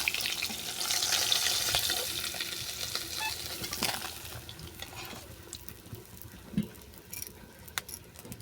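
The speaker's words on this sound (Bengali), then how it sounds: "মাছগুলো উল্টো পাল্টা বাদাম করে ভেজে নেওয়ার পর তেল থেকে উঠিয়ে নিচ্ছি" Bhola fish frying in oil in a pan, with a steady sizzle and crackle, clinks of a utensil, and bursts of spatter, fading gradually toward the end.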